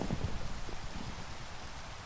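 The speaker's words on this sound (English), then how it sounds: "Yeah, I love Minecraft Rain." Steady Minecraft rain hisses in a broad, even wash of patter that keeps going with no pauses and no voices.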